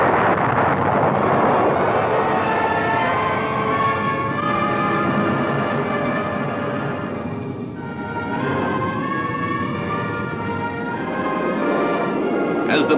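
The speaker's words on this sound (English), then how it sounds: "With the thrust of 4 powerful engines now fully unleashed" The four jet engines of a B-58 Hustler bomber in flight at Mach 2 during the 1962 Bendix Trophy race give a sustained, heavy roar with a droning tonal layer, steady and even throughout.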